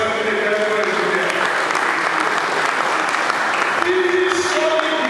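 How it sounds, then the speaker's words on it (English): Steady, dense applause from an audience at a UNILAG Chemical and Petroleum Engineering department 50th-anniversary celebration, sustained at full strength for the whole stretch, with a faint murmur of voices underneath. "Please clap for yourself in the chemical engineer."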